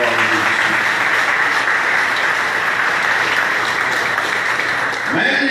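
A church congregation at a Haitian Sunday service gives the committee sustained, loud applause, a dense and even clapping roar that holds steady until it cuts off abruptly near the end.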